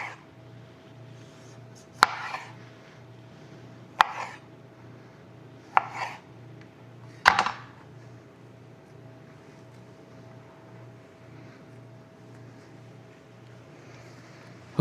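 A knife chops vegetables on a board for guinea pigs' dinner, with four separate, evenly spaced cuts near the start and quiet after them, over a low steady hum.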